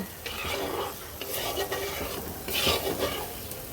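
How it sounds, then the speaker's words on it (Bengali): Spice masala for a chicken curry sautés in a pan while it is stirred vigorously, with scraping strokes and a sputtering sizzle rising and falling close up, with no voices. "মশলাটা কিন্তু খুব সুন্দর মতন কষানো হয়ে গেছে এটাকে আমি আরও কষাবো"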